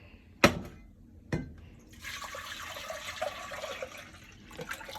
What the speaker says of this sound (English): we're going to get the saucepan and the water.